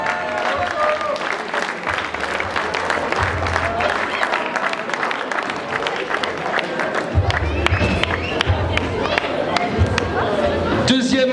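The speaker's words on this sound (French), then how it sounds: "Tonnerre d'applaudissements pour Sola Le Rondel." A crowd at a bouldering competition final applauds loudly and steadily, dense clapping mixed with cheers and chatter throughout, with voices calling out over it.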